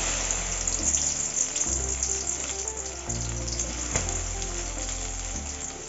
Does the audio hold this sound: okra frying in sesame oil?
yes